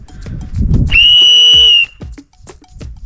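A whistle gives one loud, shrill blast of about a second near the mic outdoors, with rustling and footsteps on either side.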